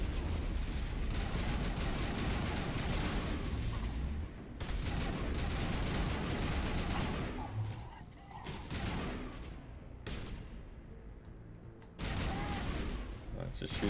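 Sustained gunfire from the Mass Effect: Legendary Edition video game, dense bursts and booms running almost continuously with brief gaps, loud and close, under and between spoken talk.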